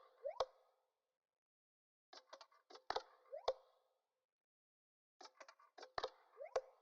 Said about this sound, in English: And then next I added this perc loop that sounds like this.